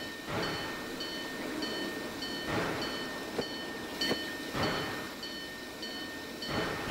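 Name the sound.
train running in the video game Train World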